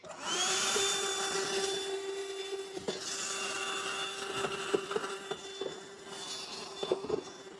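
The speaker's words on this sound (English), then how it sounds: "I'm just using a little portable Black & Decker vacuum" A small portable Black & Decker handheld vacuum whines steadily and close up while cleaning out a lawn equipment compartment near the carburetor, its pitch dipping as debris rattles and scrapes through the nozzle.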